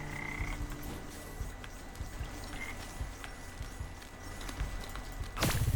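Frog croaks from the video game Wytchwood, a busy bed of repeated low croaks under steady game ambience and background music, with a louder burst near the end.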